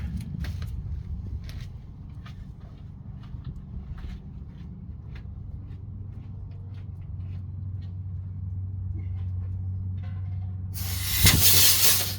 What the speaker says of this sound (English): I'm going to blast it with some air